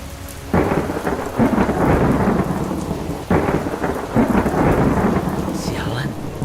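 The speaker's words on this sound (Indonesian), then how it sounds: "Tapi hujan deras banget." Heavy rain pours steadily in an animated film, with loud rumbling thunder rolling in two big waves and a constant dense hiss of downpour throughout, no voices.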